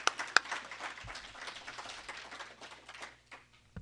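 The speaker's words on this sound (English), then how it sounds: "can we give them a round of applause?" Scattered clapping from a conference audience at a disaster-relief coordination meeting, a loose smattering of hands that stays moderate and fades out over a few seconds.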